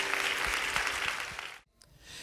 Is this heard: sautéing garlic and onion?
no